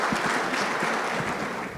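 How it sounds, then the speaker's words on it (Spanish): A medical symposium audience at a university event applauds loudly to welcome a doctor, dense continuous clapping that fills the room for under two seconds with no voices on top. "Fuerte el aplauso."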